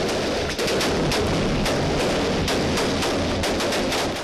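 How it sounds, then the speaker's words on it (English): Sustained heavy gunfire from a pre-dawn military raid on a house in the arrest of drug boss Joaquín "El Chapo" Guzmán, rapid automatic bursts and overlapping shots forming a loud, continuous barrage. "gunfire ripped through the pre-dawn stillness with the force of a sudden thunderstorm"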